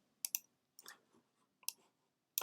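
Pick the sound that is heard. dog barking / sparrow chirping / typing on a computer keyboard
typing on a computer keyboard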